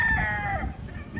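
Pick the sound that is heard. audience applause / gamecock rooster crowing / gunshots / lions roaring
gamecock rooster crowing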